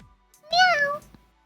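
A single drawn-out meow imitated by a voice, rising then falling in pitch, loud and close, with quiet before and after.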